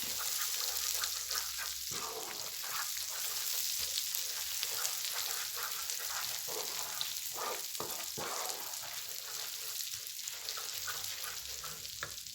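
Butter melting in a pan while being stirred, a soft continuous sizzle with light scraping strokes of the utensil recurring across the whole stretch, close and fairly quiet.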